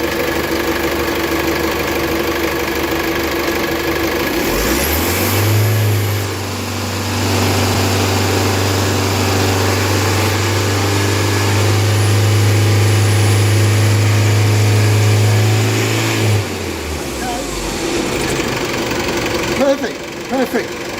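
A common rail diesel engine is held steady at 3,000 RPM, a loud sustained drone that rises in, stays constant for about ten seconds, then falls back to idle, with light background noise.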